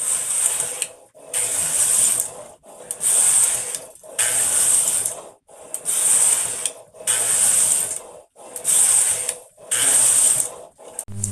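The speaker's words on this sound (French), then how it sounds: "Le bruit de la machine à tricoter" Knitting machine running, a loud rhythmic mechanical ratcheting whir in repeated passes of about a second each, separated by brief pauses, close by with no talking.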